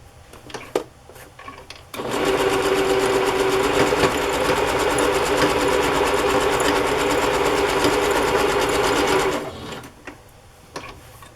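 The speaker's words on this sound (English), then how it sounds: "I want to sew down the middle so I can catch the edge of the burlap" Sewing machine stitching down the middle of burlap and fabric pockets, a loud, steady mechanical whir lasting about seven seconds, with a few light handling clicks before and after.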